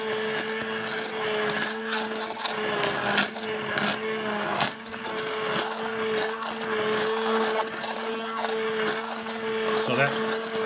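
A handheld immersion blender purées red pepper coulis with stock in a tilted container, giving a loud, steady motor whine with grinding, sloshing texture that runs throughout without pause.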